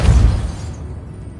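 A Depulso force spell cast in Hogwarts Legacy bursts out at the start as a heavy, booming pop, then rumbles and fades away over about a second with no voices.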